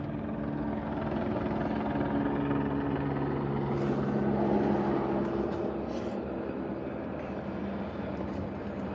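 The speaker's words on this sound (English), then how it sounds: "Helicopter's leaving." Steady droning rotor noise of a police helicopter at a distance in Los Angeles, holding a constant low hum throughout, with no voices.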